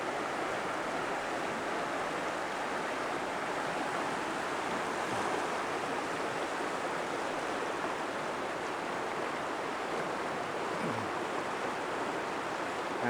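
A flooded creek runs high beside a fir tree, giving a steady, loud rush of churning water that fills the scene without pause and with no voices.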